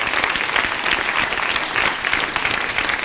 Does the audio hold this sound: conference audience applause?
yes